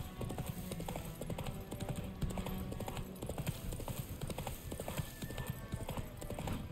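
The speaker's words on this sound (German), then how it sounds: "Also reiten wir mal eben geschwind zu Tomira." A horse galloping under its rider in The Witcher 3, rapid rhythmic hoofbeats drumming steadily and close throughout, with a faint game soundscape beneath.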